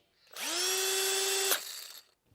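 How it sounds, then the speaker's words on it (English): A Milwaukee cordless drill spins up with a steady high whine for about a second, ends in a sharp click, and leaves a short rattling tail before stopping. "Listen to the Milwaukee."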